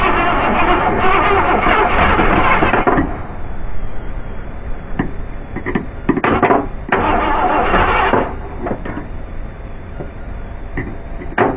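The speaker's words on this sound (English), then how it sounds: "Let's turn the ignition on and see what happens here." Car engine cranking and firing up with the ignition, a loud churning start that settles into a running idle broken by sharp clanks and knocks.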